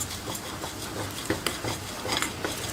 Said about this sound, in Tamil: நெய்யில் இந்த அவலை போட்டு நான் கொஞ்சம் வறுத்து எடுத்துக்கிறேன்